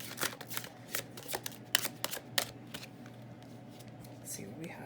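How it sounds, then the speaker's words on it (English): Tarot cards being shuffled and drawn, with close, crisp riffling and flicking bursts in quick succession, followed by quieter handling at low level. "Let's get 3 more cards really quickly for Taurus."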